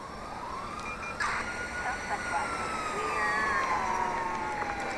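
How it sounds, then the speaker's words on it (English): Wailing police siren from a wanted-level chase in a video game played on a Steam Deck, rising and sweeping continuously over a busy game soundscape, moderately loud and steady throughout. "I'm hearing the siren."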